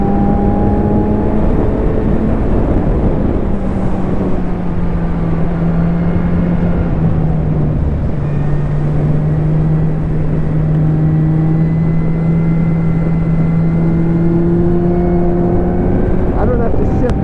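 A Kawasaki Z1000 ABS motorcycle engine pulls hard under acceleration, its loud, steady drone rising and falling in pitch over heavy wind rush, heard close from the rider's position.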